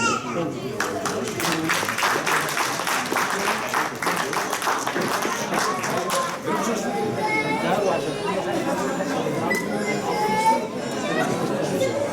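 An audience at a Black History Month lecture at the Cardiff Millennium Centre claps for the speakers for several seconds, then the applause gives way to lively crowd chatter with children's voices.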